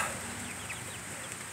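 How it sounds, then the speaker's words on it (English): Young chicks peep softly and continuously in a low, steady background murmur, several birds chirping at once, outdoors on a rainy day. "They still got chick chirps."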